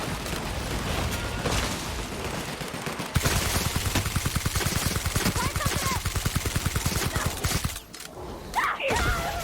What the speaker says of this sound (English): Don't stand in front of me while I'm trying to shoot the Mega Primal